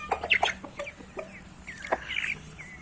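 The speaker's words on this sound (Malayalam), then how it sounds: "ഇത് ഞങ്ങളുടെ കോഴിയാണ്. കോഴിക്കുഞ്ഞുങ്ങളുണ്ട്." Backyard farm hens and chicks cluck and peep in short irregular bursts, close by and moderately loud, with faint low background noise and no talk.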